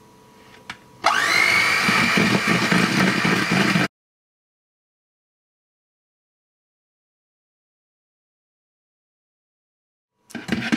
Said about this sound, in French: Et donc c'est le moment de mélanger le tout donc au batteur.